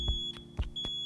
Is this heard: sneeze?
no